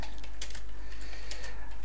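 Typing on a computer keyboard while entering page text in WordPress; a steady patter of close key clicks runs over a constant hum, with no voices.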